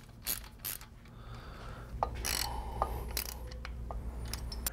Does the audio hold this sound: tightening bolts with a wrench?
yes